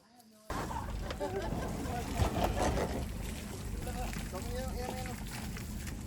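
Boat motoring across open water while island hopping in Palawan, a steady broad engine and water rush holding from just after the start, with voices talking over it.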